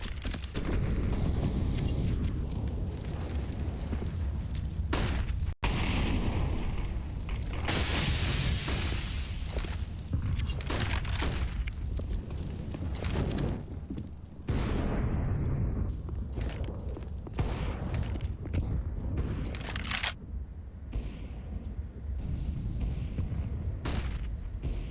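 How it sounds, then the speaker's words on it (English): Grenades and a Molotov going off in a Counter-Strike match on the Vertigo map, sustained booming bursts and crackling blasts layered densely over continuous game noise throughout, loud and busy. "Bounce nades, bounce Molotov."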